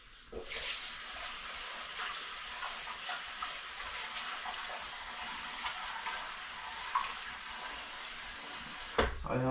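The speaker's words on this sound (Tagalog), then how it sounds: "So lagay na natin yung hugas bigas." Cloudy water left from washing rice is poured into a cooking pot as broth for chicken tinola, a steady watery splash and trickle running for several seconds at close range, with no talk over it.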